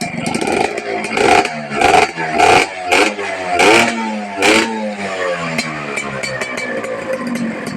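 A Honda Nova RS motorcycle engine is revved several times close up, each throttle blip rising into a loud, raspy two-stroke whine before dropping back to a rattly idle.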